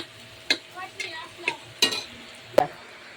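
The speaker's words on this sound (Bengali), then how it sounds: "এবার চিকেনগুলো দিয়ে দিলাম। এবার শুধু কষাতে থাকবো।" Chicken stir-fried in a pot over a wood fire, with about half a dozen distinct scraping clanks of a spatula against metal spaced irregularly over a soft, low sizzle.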